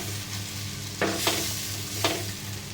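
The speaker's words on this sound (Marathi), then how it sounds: "इथे आपण थोडंसं हलवून घेऊया भाजीला." Valpapdi vegetable being stirred in a pan, with a steady soft sizzle of frying throughout and a few brief scraping strokes of the spoon, close and moderately loud, no talk.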